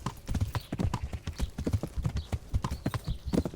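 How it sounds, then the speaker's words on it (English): Horse hooves clip-clop in a quick, steady rhythm in the medieval video game Kingdom Come: Deliverance, close and crisp, each strike distinct as the horse trots along. "let's go ahead and get off the horse here"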